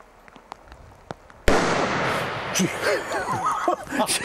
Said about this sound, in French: Tu peux tirer une fois pour nous, juste pour avoir le son.